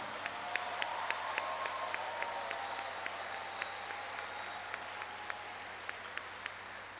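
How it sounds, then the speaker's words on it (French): An audience applauds graduates at a university ceremony, a long, even wash of clapping with periodic sharp louder claps punctuating it, heard from a moderate distance. "applaudissons-les"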